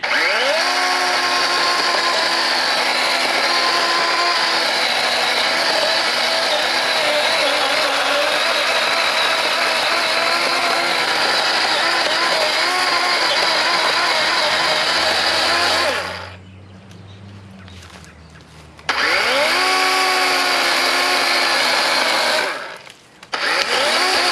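A DeWALT 20V XR cordless chainsaw cutting timber, with a loud, steady electric motor whine close by. The sound drops out briefly, surges back, then cuts off again near the end.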